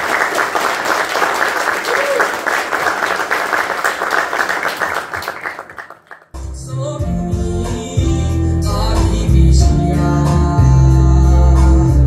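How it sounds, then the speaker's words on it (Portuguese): Guests at a fifteenth birthday debutante party clap loudly and steadily for about six seconds, then the applause fades out and loud party music with a heavy beat takes over. "Uma salva de palmas, gente."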